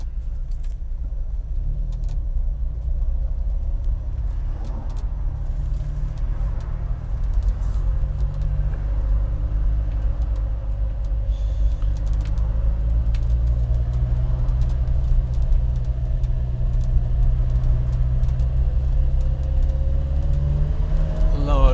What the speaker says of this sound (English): So there's always traffic movements taking place around here.